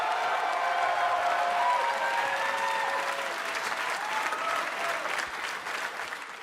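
A large wrestling arena crowd cheers and applauds steadily, a dense roar of clapping and shouts with whistles, staying loud throughout and tapering slightly toward the end.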